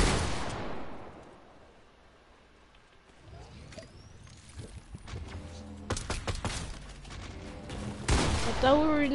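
Video game gunfire in a 1v1 match against a brother, starting with a loud blast, then sparse shots building into a cluster of sharp reports near the end, with a voice briefly heard.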